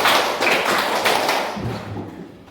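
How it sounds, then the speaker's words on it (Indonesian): Schoolchildren in a classroom clap a five-beat pattern together, a fast wash of overlapping claps that fades out, with a brief low voice near the end. "Ulang lagi, tepuk 5."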